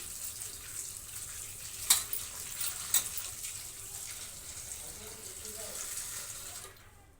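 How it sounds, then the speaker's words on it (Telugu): Water runs from a tap into a bowl of mushrooms being washed, a steady close stream with a couple of sharper splashes early on before it stops. "వీటిలో వాటర్ పోసేసుకొని"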